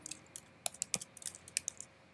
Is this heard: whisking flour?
no